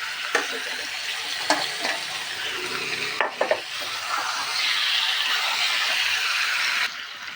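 Chicken and potato pieces fry with browned onion in a pan, a steady broadband sizzle broken by a few sharp scraping stirs near the start, with the hiss swelling and holding loud toward the end.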